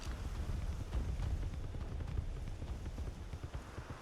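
Horse hooves clip-clop in Ark: Scorched Earth, a soft, steady run of low thudding steps under a faint rumbling game ambience, with no talking over them.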